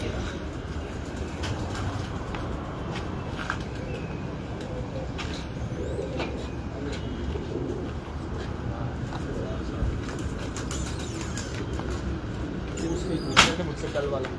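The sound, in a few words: pigeons cooing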